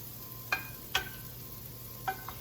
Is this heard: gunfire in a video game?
no